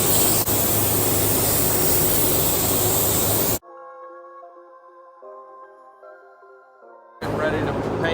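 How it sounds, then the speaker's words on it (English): A spray gun lays down R6 Scorch Red base coat on a 1969 GTX: a loud, steady hiss for about three and a half seconds, then silence with quiet music, before the spray hiss resumes near the end. "so we're going to go in and start spraying base."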